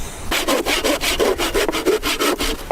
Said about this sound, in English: today we're going to really see how our rifles hammer a nail into some wood